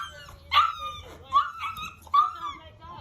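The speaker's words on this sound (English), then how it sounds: "Whoa, back up. This is not your dog." A dog gives short yelping barks and whimpers in three bursts, close and fairly loud, during a heated confrontation outdoors, with people talking excitedly throughout.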